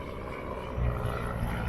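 Biplane flying overhead at an airfield, a steady propeller drone that swells slightly louder midway, continuous and fairly distant.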